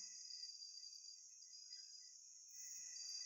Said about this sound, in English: You can hear the crickets, I know.